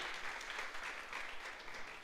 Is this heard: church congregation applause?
yes